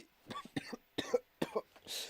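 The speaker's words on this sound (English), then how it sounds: "I swear it's not the spicy cough" A person on a live stream gives a quick run of dry coughs: about five short, sharp bursts in rapid succession, fairly quiet and close, with brief gaps between them.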